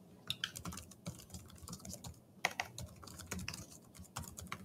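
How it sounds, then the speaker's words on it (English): Someone types a question into an online test form on a computer keyboard. Quiet, irregular bursts of close key clicks come with short pauses between them. "you can type in the question here"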